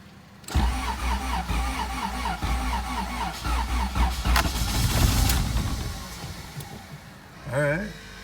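A GSR car engine cranks on its first start after a build, with a rhythmic chugging starter sound, sputters and surges, then a voice briefly speaks near the end.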